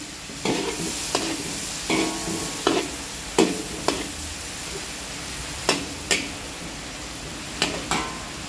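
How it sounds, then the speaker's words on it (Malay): A utensil stirs beef sizzling in a hot pan, with steady frying hiss and a series of sharp scraping clacks against the metal at irregular intervals. "Gaul-gaul dulu."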